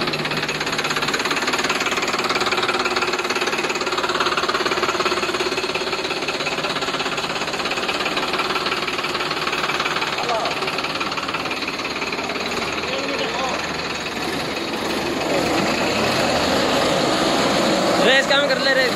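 Two tractors, a Sonalika Tiger DI55 and a Farmtrac 60 T20 Supermax, in a tug-of-war contest, their diesel engines roaring loud and constant and knocking heavily throughout, with voices mixed into the din.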